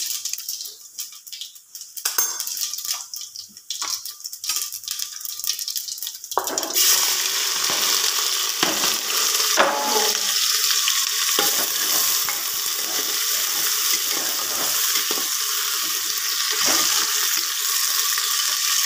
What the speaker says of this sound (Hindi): सिंपल तड़का लगा दिया मैंने,